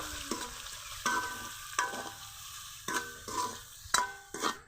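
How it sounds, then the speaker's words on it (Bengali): Shrimp with onion, salt, turmeric, chili and mixed spice powders sautéing in a pan for a water lily (shapla) curry, with a steady sizzle broken by repeated scraping stirs about once a second, close and fairly quiet. "দিয়ে দিব চিংড়ি মাছ, লবণ, হলুদের গুঁড়া, মশলার গুঁড়া, মরিচের গুঁড়া, সবগুলো ভালোভাবে কষিয়ে নিব"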